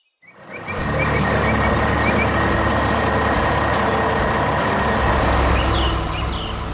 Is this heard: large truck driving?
yes